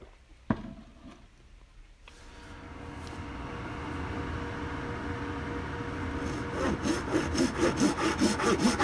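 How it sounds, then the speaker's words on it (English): Hand saw cutting the blowing edge into a bamboo shakuhachi, with steady rasping strokes that build in strength and quicken near the end, close up after a sharp knock at the start. "Now I'm actually cutting out where the blowing edge is going to be."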